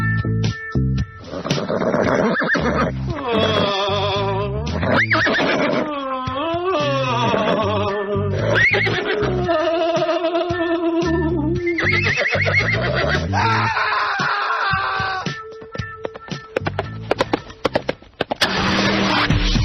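A loud horse neighing sound effect plays over a radio talk show, a long series of shrill whinnies with rising and falling cries and snorts filling the stretch before it cuts out.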